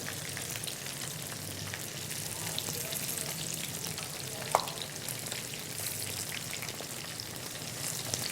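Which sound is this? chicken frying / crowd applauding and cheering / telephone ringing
chicken frying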